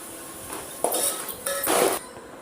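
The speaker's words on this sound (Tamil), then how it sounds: "கொஞ்சமாக சோயா சாஸ் ஆட் பண்ணிக்கலாம். இதை மிக்ஸ் பண்ணி விட்டுட்டு" Veg noodles being mixed with soy sauce in a pan, a few short clattering bursts of utensil on metal pan between quiet pauses.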